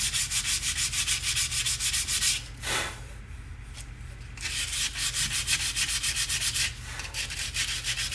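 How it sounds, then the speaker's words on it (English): Wood sanded by hand, a steady run of close, rapid back-and-forth rasping strokes that pause briefly midway before the scratchy rhythm resumes. "Now, there's going to be a lot more sanding on this"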